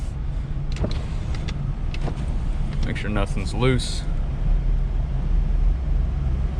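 A 2019 Ford F-150 pickup with a newly installed skid plate rolling along a road, with steady engine rumble and wind noise inside the cab, and a person speaking briefly.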